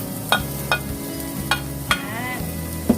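Onions sautéing in a pan for Batangas-style pork rib kaldereta, a steady close sizzle broken by several sharp stirring clacks of a utensil against the pan, with no talking.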